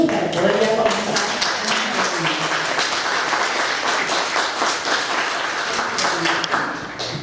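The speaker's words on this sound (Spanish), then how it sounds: "Fuertes aplausos para ellos para poder ya comenzar." An audience at an evening round table honoring Jorge Puccinelli Converso applauds the panelists, a steady, moderately loud patter of many hands that carries on evenly for several seconds.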